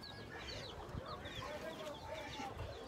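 Chickens and young chicks cluck and peep softly on a rooftop garden, a faint, continuous scatter of short chirps and clucks at low level, no one speaking.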